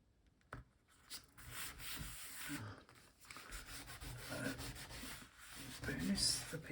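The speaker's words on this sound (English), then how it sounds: "Burnish the papers firmly down here" Collage papers are burnished firmly down by hand, a close, soft, repeated rubbing and scraping with uneven strokes, faint and dry.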